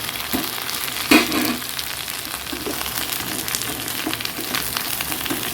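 Cut taro pieces frying in a hot pan give a steady, close sizzle, with a brief clatter of stirring near the start and soft scrapes throughout.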